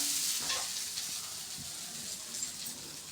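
Dosa batter sizzling and frying on a hot pan, a steady close crackle with a faint scrape, no talking.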